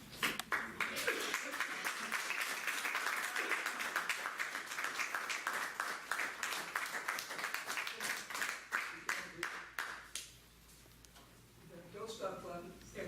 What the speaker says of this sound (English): Don't stop clapping